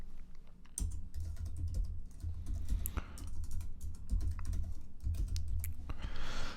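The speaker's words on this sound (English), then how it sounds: "I'm going to press tab." Someone types on a computer keyboard, a quiet, close run of irregular clicks and taps with a few heavier key presses, no talk.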